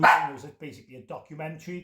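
A pet dog lets out a short bark indoors, brief and fairly close, with someone speaking over it.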